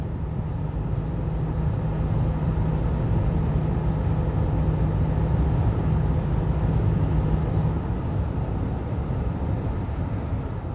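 A vehicle fitted with a digital tachograph pulls away and drives steadily, giving a continuous low engine rumble with a faint steady hum and no talk.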